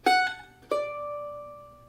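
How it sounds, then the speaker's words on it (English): A mandolin plays a quick triplet using a hammer-on and pull-off, with two sharp plucked attacks and the last note ringing out clearly on its own, close and unaccompanied. "we're going to play a triplet, hammer on and pull off."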